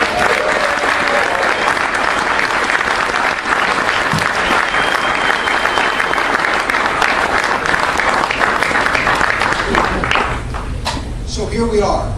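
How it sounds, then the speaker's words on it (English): A party kick-off event audience breaks into loud, sustained applause for Ken Block, dense clapping with some cheering that carries on for about ten seconds before thinning out near the end. "Ken Block deserves an enormous round of applause"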